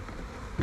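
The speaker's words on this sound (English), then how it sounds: "bees" Honeybees buzz around a nuc box being set up for sale, a dense, steady insect drone close by with a brief louder swell near the end.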